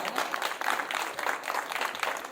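Clapping from an audience at a Shrimad Bhagavat Katha religious discourse in Azamgarh, a brief burst of dense applause at moderate distance with a few louder swells.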